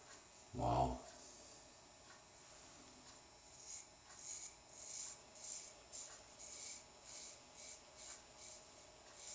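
A Dorco Titan blade in an ABC Pocket Style razor scrapes across lathered stubble in a steady series of soft, rhythmic strokes, quiet and close, after a brief louder bump at the start.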